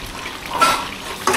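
Chicken wings, legs and skin with potatoes fry in oil in a kadai while being stirred, giving a soft continuous sizzle with brief scraping swishes of the spoon against the pan, close up and with no voices.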